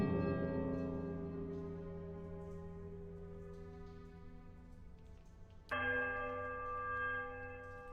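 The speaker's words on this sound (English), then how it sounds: "The romantic sound of the bells" Bells ring in a village in the Pillars of Eternity video game, one long resonant chime slowly decaying, then a second bright strike near the end, clear and without other sounds.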